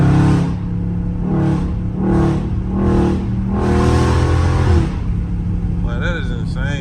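A Dodge Charger Scat Pack engine in street mode revs in repeated bursts, about five deep throaty pulls rising and falling, loud and close, with a voice briefly speaking near the end.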